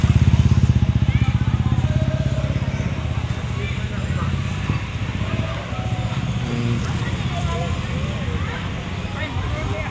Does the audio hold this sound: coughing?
no